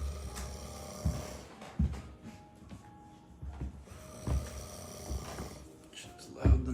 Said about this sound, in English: turn down your snoring